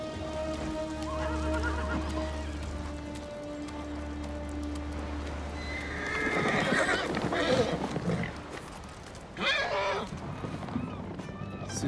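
In the Ghost of Tsushima video game, a horse in armor neighs and snorts near the listener, with hooves clip-clopping beneath a low ambient drone, and there is no speech.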